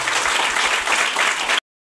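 A church congregation at a prayer centre claps loudly together, a dense, steady wash of applause that holds for about a second and a half and then cuts off abruptly into silence.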